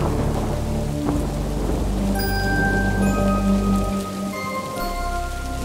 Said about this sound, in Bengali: জানলা দিয়ে দেখলাম বাইরে ঝিরঝির বৃষ্টি এখনো পড়ছে।